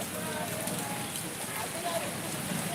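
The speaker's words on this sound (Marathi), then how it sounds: "पावसाचा वेग वाढतो आहे आणखी" Steady, dense unseasonal rain hisses continuously on surfaces in Natepute town, a constant wash of noise with no pauses, heard from nearby.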